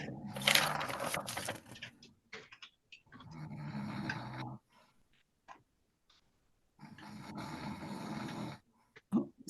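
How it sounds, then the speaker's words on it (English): A person snores during a virtual court hearing: three long, rough, breathy bursts, each followed by a quiet gap, fairly loud and close to the microphone. "Someone snoring, Your Honor."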